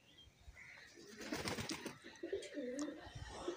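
A Punjabi pigeon coos close by, a soft repeated throaty call over faint outdoor background, with a brief flutter of wings.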